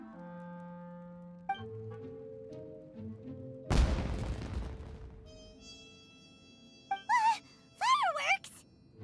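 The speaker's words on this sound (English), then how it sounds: "It sounded like fireworks." Fireworks burst in Genshin Impact: one loud booming explosion with a crackling tail, followed by quieter game tones and a pair of rising whistling squeals, set among soft musical notes.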